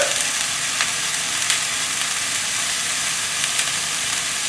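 Ginger, garlic and curry powder stir-fry in a hot pan for curry noodles, giving a continuous loud sizzle with soft scraping stir strokes recurring every second or so, with no voices.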